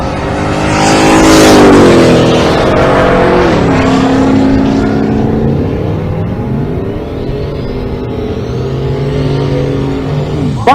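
A Mustang drag racing run at a drag strip event in Pueblo, Colorado, its engine roaring loud and close as it launches and winds up through rising gear changes, then fading slightly as it pulls away, with no talk.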